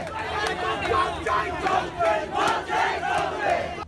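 Protesting teachers sitting on a road outside a gate shout slogans in rhythmic bursts, a crowd's chant rising and falling several times with clapping mixed in, loud and close.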